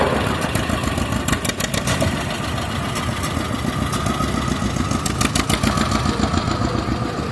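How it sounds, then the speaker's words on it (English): A 1939 John Deere Model P tractor engine runs steadily in a threshing show parade, a continuous loud chugging drone with light ticking overtones throughout and no talk. "This is a 1939 John Deere Model P, owned and operated by Austin Reynolds"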